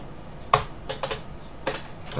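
A few quiet, close keystrokes on a computer keyboard as a command is typed in a terminal to exit the Vim editor, spaced irregularly over a faint background.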